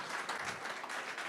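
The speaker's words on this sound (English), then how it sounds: "A round of applause, please." A faint, short burst of audience applause, a dense soft patter of many hands heard quietly and at a distance, no talking on top.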